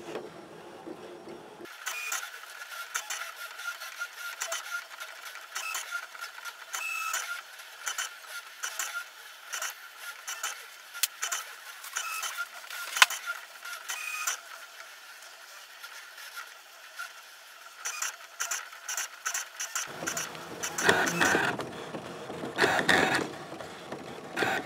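A ScanNCut cutting machine slices through a sheet of flex vinyl, giving a steady, fairly quiet mechanical whirring with ticking and ratcheting motor movements that shifts tone near the end, with no talking.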